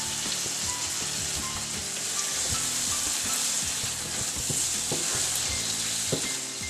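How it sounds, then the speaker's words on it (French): Tomatoes and tomato paste frying in a pan for pav bhaji, with a loud, continuous sizzle and the occasional stirring scrape, close up and without speech. "j'ajoute les tomates et le concentré de tomate."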